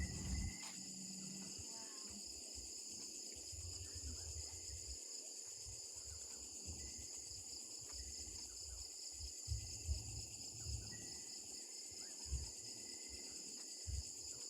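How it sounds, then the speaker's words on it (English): Steady high-pitched cricket chirring at night runs through the whole stretch, faint and distant, over a low background rumble with occasional soft thumps. "Can you guys hear those crickets?"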